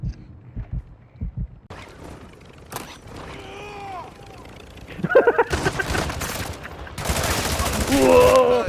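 Gunfire from the video game Warzone DMZ: scattered shots and bursts build into loud, sustained rapid firing toward the end, mixed with game noises and short spoken exclamations early on.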